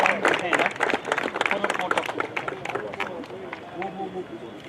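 Applause and cheering from a crowd at a football trophy presentation, dense overlapping claps near and loud at first, thinning toward the end with voices mixed in.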